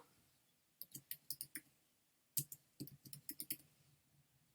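Computer mouse clicks in a quiet room, a quick burst of six crisp clicks, a pause, then another run of about eight close, sharp clicks.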